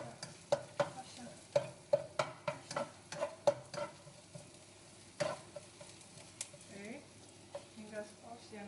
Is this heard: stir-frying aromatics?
yes